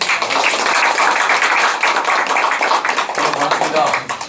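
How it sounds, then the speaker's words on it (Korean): Audience applause welcoming a workshop instructor at a senior center event, steady and fairly loud dense clapping throughout with a slight fade at the end. "큰 박수로 환영해 주시기 바랍니다."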